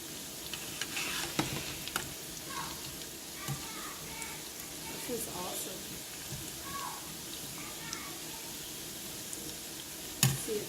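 Mahamri dough sizzles steadily in hot oil, a continuous crackling hiss with occasional clinks and stirring sounds, and a person talks quietly over it.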